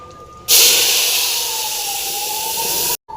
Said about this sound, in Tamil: மசாலா ஊற்றியாச்சுங்க